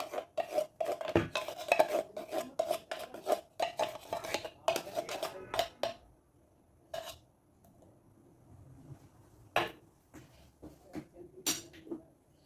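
Condensed milk flan mixture being mixed in a bowl: a brisk run of clinking, scraping utensil strokes against the bowl, close and fairly loud, then a quieter pause broken by a few sharp knocks.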